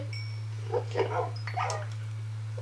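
A dog close by gives a few short, soft barks and yips over a steady low electrical hum, with no talk.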